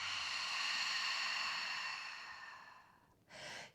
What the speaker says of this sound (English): exhale out the mouth completely